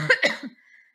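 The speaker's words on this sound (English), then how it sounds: "like I have to cough, which I'm going to do right now in just a second" A person with COVID-19 coughs from bronchial spasms, two or three quick close coughs followed by a short breath.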